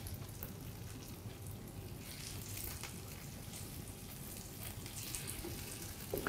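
Pieces of chicken sizzling as they fry in a pan, a steady crackling hiss throughout, close and fairly quiet, with no voices.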